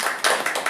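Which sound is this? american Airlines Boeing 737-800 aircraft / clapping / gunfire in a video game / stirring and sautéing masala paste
clapping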